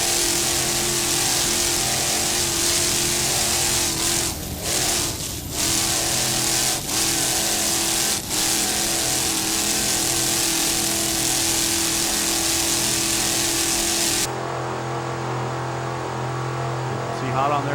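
Powerboat engines roar continuously in an offshore race, a loud sustained drone that shifts in pitch near the end, with a commentator talking over it.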